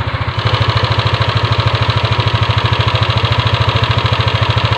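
A Yamaha Aerox scooter engine runs steadily at close range, producing a loud, even, rapid low thrum with a regular pulsing rhythm throughout and no talking.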